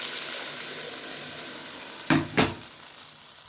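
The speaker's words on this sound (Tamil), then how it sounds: "சோம்பு போட்டு தாளிச்சிட்டு அதிலே கொஞ்சம் கருவேப்பிலை போட்டுக்கலாம்" Fennel seeds and curry leaves drop into hot oil, tempering with a steady sizzle that flares into two sharp, loud crackling bursts near the end before settling back to a frying hiss.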